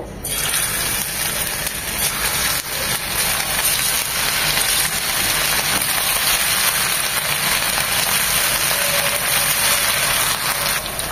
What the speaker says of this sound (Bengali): আমরা এখন চিকেনগুলো ভাজবো, এক এক করে ছাড়বো